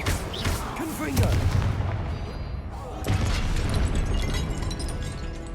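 The Confringo explosive spell from Hogwarts Legacy bursts in a dense, roaring blast, followed by a second sustained explosive rumble during combat, with a voice heard beneath the din.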